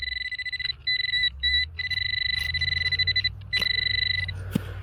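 Metal detector signal tone while digging for WW1 relics, a repeated high electronic beeping in short bursts and longer held tones, close and clear over faint rustling of digging.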